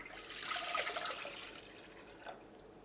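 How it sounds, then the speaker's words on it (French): Cold water poured from a tap into a pot for cooking dried beans, a close splashing rush that swells and then eases to a softer trickle. "Disposer de l'eau froide."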